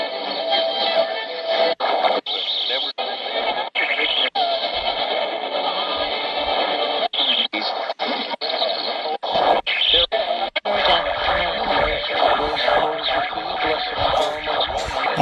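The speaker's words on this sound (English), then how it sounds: "All that squealing, that shouldn't be there. That's a problem in the radio." Soviet Olympic 402 radio under repair giving off a persistent high squealing whine with tonal hiss, broken by repeated sharp dropouts and crackles as it is tuned or handled, close and fairly loud.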